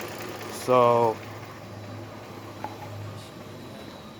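A 2007 Dodge Charger with a 3.5 High Output engine, 153,000 miles and a P0660 fault code, idles as a faint, steady low rumble, with one short spoken word near the start.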